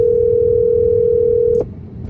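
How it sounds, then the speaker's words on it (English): A steady, loud telephone dial tone holds as one unbroken pure tone for about a second and a half, then cuts off with a click, leaving quiet line hiss. "what better way to start this video than to make a phone call?"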